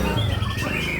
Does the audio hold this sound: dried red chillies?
no